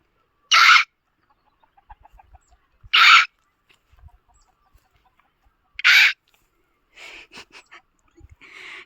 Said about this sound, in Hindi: डरा दिया मैंने मुर्गे